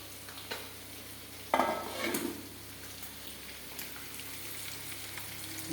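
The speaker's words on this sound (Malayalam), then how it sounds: "ഇപ്പം നത്തോലി ഇങ്ങനെ വറുത്ത് വരുന്നുണ്ട്." Anchovies frying in a pan for a fish curry, a steady soft sizzle with a couple of louder stirring scrapes near the start, close and without talk.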